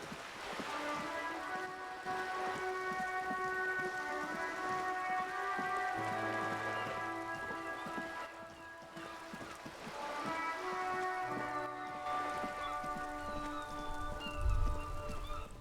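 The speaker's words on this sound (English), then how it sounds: "All around you, rain falls on the great city of Rivershore." Rain falls steadily on a city in the video game Disco Elysium, a soft even hiss under sustained musical tones, fairly faint throughout.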